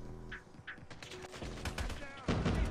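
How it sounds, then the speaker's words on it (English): Rapid gunshots in Call of Duty Mobile, with a burst of automatic fire and a few sharp reports, fairly quiet overall. "Where the heck am I getting shot from?"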